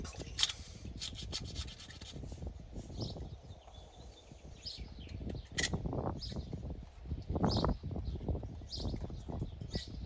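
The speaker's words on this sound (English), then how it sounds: "Angle die grinder, excuse me. Like a Scotch-Brite and get this thing clean." An angle die grinder with a Scotch-Brite pad scrubs a part on a 1976 Dodge D-300 flatbed dump truck, giving a steady, close, raspy scraping with uneven surges and sharp ticks.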